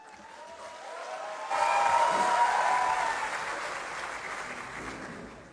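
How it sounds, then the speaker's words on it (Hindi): Audience applause at a poetry reading, rising from a soft start into a fuller burst of crowd clapping that then gradually fades, with a faint tonal hum in the middle. "मुझे कभी कलाम पे इतनी तालियां नहीं मिली जितनी कलाम से पहले मिल गई हैं"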